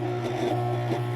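A sewing machine stitching slowly through several layers of fabric on a clutch wallet, a steady close mechanical whir with faint rhythmic ticking and no talk.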